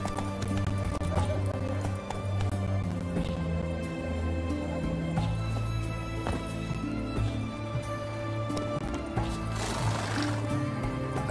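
The horse Roach gallops in the video game The Witcher 3, fast continuous hoofbeats under a music score, with no voices.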